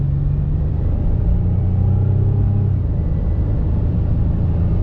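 A car on a long road trip across the state line into Montana produces a steady, loud engine and road rumble that runs unbroken throughout, with no talking.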